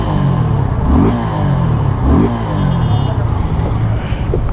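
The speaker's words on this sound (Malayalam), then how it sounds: "അപ്പോൾ ഇതാണ് അതിൻ്റെ എക്സോസ്റ്റ് നോട്ട് കേട്ടോ." A Suzuki Gixxer 250SF motorcycle idles close by, and its throttle is blipped twice in quick succession. Each rev rises sharply and then falls back to a steady idle.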